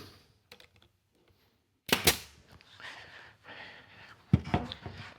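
A nail gun drives nails into cedar boards, with two sharp, loud snapping shots about two seconds apart, each followed by brief clattering handling noise.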